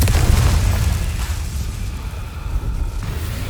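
A Confringo spell blast in the Hogwarts Legacy video game erupts as a loud, booming burst and then fades into a rumbling tail, with no talking.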